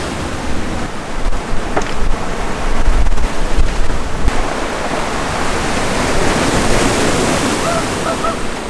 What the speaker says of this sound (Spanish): como la marea está tan alta, las olas llegan